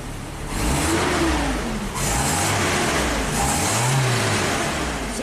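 A Kia car engine with an emissions fault revs up to around 1,000 RPM, rising and falling in a few close, droning surges over a steady idle.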